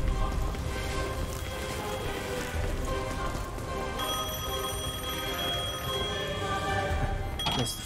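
Telephone ringing in the action game Devil May Cry 5, a repeated electronic ring heard over a steady background of rain-like noise, with no talk.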